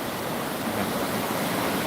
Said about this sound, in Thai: ลมเย็นสบายบรรยากาศคลื่นทะเลนะฮะ